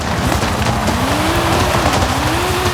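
Loud, continuous engine roar from a rally car in Forza Horizon 5's Rally Adventure expansion, its pitch rising and falling through gear shifts and corners, with tire squeal mixed in.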